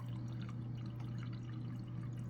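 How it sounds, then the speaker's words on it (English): Water trickles slowly from a Samsung refrigerator's water dispenser into a cup, a faint, steady pour with a constant low hum underneath and no talking. "This is how slow it's dispensing water."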